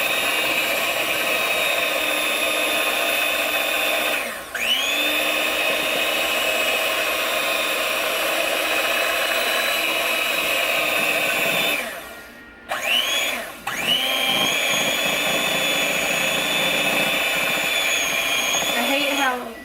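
A handheld electric mixer whirs steadily and loudly while blending brownie batter with cocoa powder, briefly dipping in pitch twice as it slows or stops and restarts.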